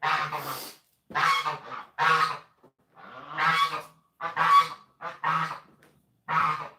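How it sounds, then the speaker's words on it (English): Geese honk loudly and close in a run of repeated nasal calls, coming in short bursts with brief pauses between them. "The geese are out here."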